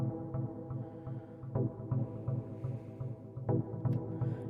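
Dub techno chords from a simple Massive preset built on saw and square waves through low-pass filtering repeat as a quiet, dense pulsing pad with soft rhythmic ticks, steady and unaccompanied.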